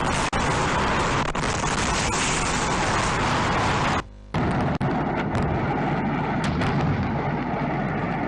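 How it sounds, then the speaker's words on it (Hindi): Continuous, overwhelming roar of blasts and crackling detonations at an illegal firecracker factory in Harda, loud and distorted, with a brief drop-out midway before the barrage resumes. "फैक्ट्री में लगातार धमाके हो रहे हैं"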